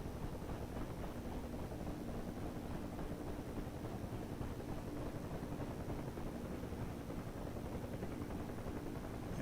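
Helicopter rotor in the DCS flight simulator winding down through its last revolutions, a steady, continuous whirring engine drone with a low hum that holds at a constant level throughout, with no talk.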